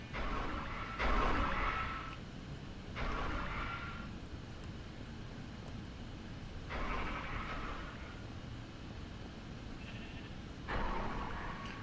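Minecraft sheep bleating in short repeated calls spaced a few seconds apart, moderately loud over a low steady game ambience, with no voices.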